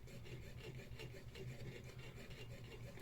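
A small file rasps steadily against a polystyrene part for a 1:35 scale T-26 tank model, a soft continuous scraping close by with a faint mechanical hum underneath.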